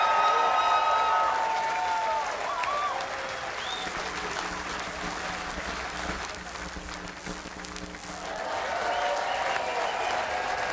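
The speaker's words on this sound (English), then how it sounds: "And would you give a big round of applause for the wonderful Jahsifik?" Audience applause and cheering at the Exumed 2013 singing final, a broad sustained roar of clapping that runs throughout, with whistles and a voice over a sound system heard at the start and end.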